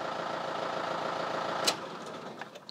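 A 2007 Toyota Hilux engine idles at a steady, low rumble close by, with a brief sharp click or knock near the end and no talking.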